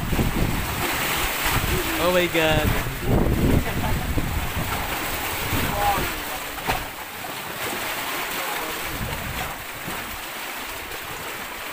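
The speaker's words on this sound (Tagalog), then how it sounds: "medyo malakas ang alon at sumabay din yung malakas na hangin" Strong sea waves and heavy wind roar continuously around a boat on open water during the monsoon season, loud and close, with a voice briefly exclaiming over the rushing noise.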